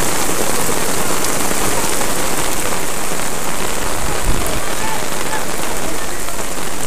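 Heavy rain pouring down on a football ground during a match, a loud, dense, continuous hiss of downpour that holds steady from start to finish, with no voices clearly standing out.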